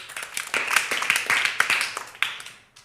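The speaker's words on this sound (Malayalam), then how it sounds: "ഒരു ക്ലാപ്പ് കൊടുത്തേ." An audience claps for a young girl at a children's television show, with a short burst of scattered applause that swells and then fades out over a few seconds.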